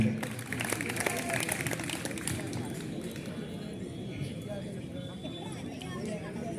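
A college audience gives a loud, sustained round of applause for Vikas at a stage event, a dense wash of clapping that keeps going throughout with some crowd noise.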